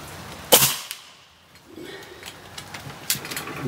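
A single sharp shot from a smoothbore rifle cracks out near the start, fired at a target 50 metres away, followed by a quieter second report later, with outdoor ambience in between.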